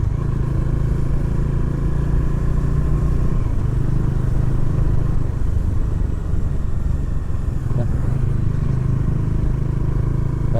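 A Bajaj Dominar 400 motorcycle being ridden, with a steady engine rumble and road noise continuing throughout, loud and close, with no talking.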